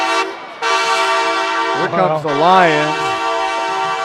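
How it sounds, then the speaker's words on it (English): At a Howe Bulldogs vs Ponder Lions high school football game, a stadium horn sounds one loud, sustained blast, with an announcer speaking over it. "That's a horn right there."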